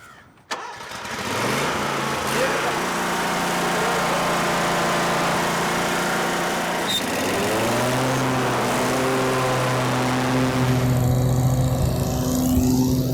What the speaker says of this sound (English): So what I'm gonna do now is I'm gonna start the engine.